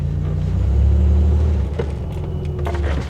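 A Buick Grand National's engine rumbles low and heavy through its muffler while the car creeps along, a loud, steady close-up drone that swells slightly and then settles.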